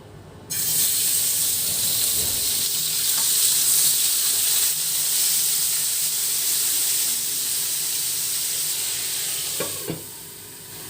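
Pork frying in a pan, a steady loud sizzle running continuously throughout with occasional faint clinks, no talking.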